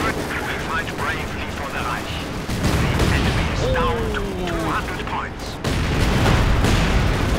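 Artillery fire and gunfire in the strategy game Company of Heroes 2, booming shots and rattling bursts in the mix under continuous commentary voices, with a louder burst of action midway.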